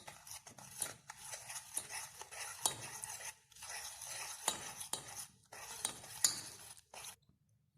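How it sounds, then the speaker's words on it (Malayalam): A spoon stirs biscuit powder and milk into chocolate cake batter in a bowl, giving repeated scraping and clinking strokes in uneven bursts with short pauses, close and moderately loud. "ഇനി ബിസ്ക്കറ്റ് പൊടിയിലേക്ക് നമുക്ക് ഇത്തിരി പാലൊഴിച്ച് നമുക്ക് കുഴയ്ക്കാം"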